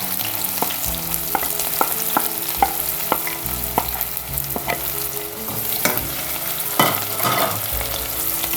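Chopped onion and garlic frying in hot oil, a steady crackling sizzle broken by repeated scraping stirs of a spatula, loud and close with no voices.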